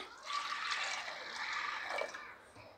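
Water is poured into a pressure cooker for cooking lentils with turmeric and salt, a soft continuous splashing pour lasting a couple of seconds before tapering off, quiet and without talk.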